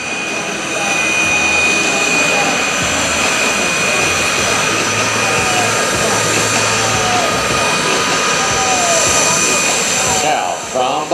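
Loud, steady engine roar from a formation of Yak-52 aircraft flying a loop at an airshow, continuous and fairly near for the whole stretch, with a public-address commentator's voice partly under it.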